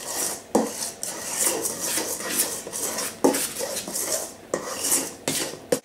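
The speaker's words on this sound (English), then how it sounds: "And now I can stir to combine with a metal spoon" A metal spoon stirs vanilla-flavoured batter in a bowl, scraping and clinking against the sides in a steady, repeated rhythm with a few sharper knocks, close and fairly loud, no voices.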